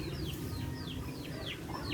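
Chickens and chicks cluck and peep around horses at feeding time, with repeated short calls spread evenly over a constant low farmyard rumble.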